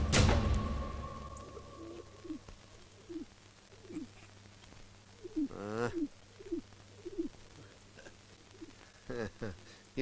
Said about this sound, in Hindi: ये पंछी ससुरा अमरपुर से उड़कर आया लगता है